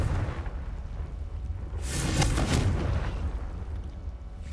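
A Confringo blasting spell exploding in a video game, one broad roaring burst swelling near the middle over a dense, noisy rumble, fairly loud with no voices.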